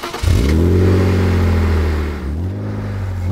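A BMW i4 M50 electric car accelerates on the road, its rising whine climbing smoothly for about two seconds, then dropping and settling into a steady tone, close and clear with no talk.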